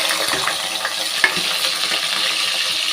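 Shallots and green chillies hit hot oil with popped mustard seeds and fenugreek, giving a dense close sizzle with a few sharp clinks and stirring clatters across a short stretch, no voices.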